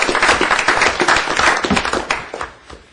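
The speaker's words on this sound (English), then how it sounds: "So one more time, round of applause." Applause for the 2009 Stilwell Award winner, a dense crowd clapping loudly and continuously before tapering off near the end.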